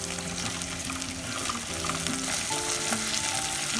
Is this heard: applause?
no